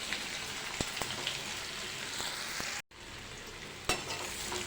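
Methi bajra muthiya drop into a hot tempering of oil with crackling sesame seeds and curry leaves, a soft steady sizzle with a few sharp pops and a brief cut near the middle.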